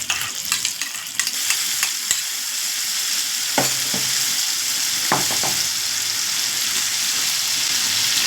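A ground paste of ginger, cumin, black pepper and green chili hits hot oil and sizzles hard. Sharp spatters and scraping stirs come early, then settle into a continuous loud frying hiss.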